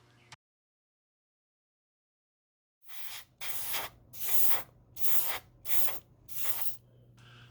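An airbrush sprays paint in five or six short, close hissing bursts over a small model railroad building, each burst separated by brief pauses after a silent start.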